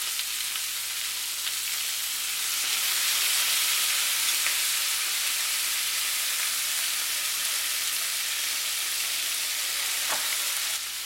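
Chicken wings with a splash of cooking wine sizzle steadily in a hot pan, a continuous bright crackling hiss at moderate loudness, with a faint clink near the end and no talking.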